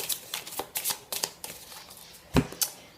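Tarot cards are shuffled and drawn, giving a series of quick, close papery riffles and snaps in irregular bursts, with one sharper slap near the end.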